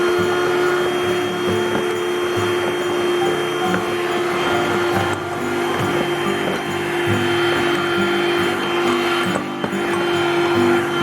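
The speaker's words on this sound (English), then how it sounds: "I think I'm going to go and get a Hoover." A Hoover vacuum cleaner runs close and loud, cleaning a dusty Cooler Master computer fan, with a steady, unbroken roaring drone that holds for the whole stretch and has no talking over it.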